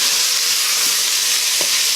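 Onions fry in a pan until they turn clear, giving a steady, dense, close sizzle with a few soft stirring touches and no talking.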